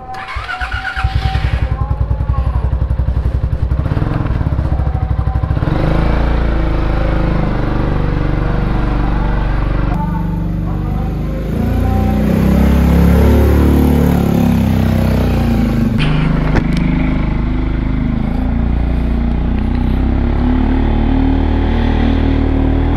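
A Yamaha XMAX scooter engine runs steadily while riding on a road trip from Jakarta to Solo, a continuous loud mid-pitched drone with shifting road and wind noise, rising and easing with throttle changes, no talking.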